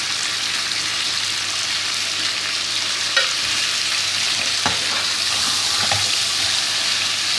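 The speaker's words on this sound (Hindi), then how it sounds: "इसको हम अच्छे से फ्राई कर लेंगे" Spices frying in hot oil for chicken dum aloo, giving a continuous close sizzle with a few soft stirring scrapes, no talking.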